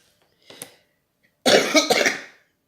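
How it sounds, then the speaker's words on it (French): Two close coughs from an adult: a brief, lighter one first, then after a pause a loud, harsh, drawn-out cough that fades out, with no speech. "Je m'excuse, hein, j'ai une bonne toux"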